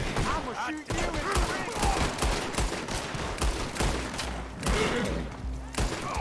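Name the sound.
gunfire in Red Dead Redemption 2 video game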